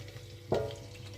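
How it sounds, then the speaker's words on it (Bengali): Bay leaves and shahi jeera tempered in hot ghee and oil give a faint low sizzle, broken by one brief, louder stirring scrape midway before settling back to the quiet fry. "তেজপাতা আর সাজিরা দুটো একসাথে ভালোভাবে ঘি আর তেলের মধ্যে নাড়াচাড়া করে নিলাম।"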